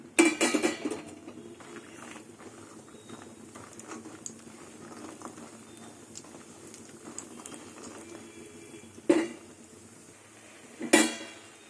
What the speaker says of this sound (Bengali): এবার ডালের বড়িগুলো ভেজে নেবো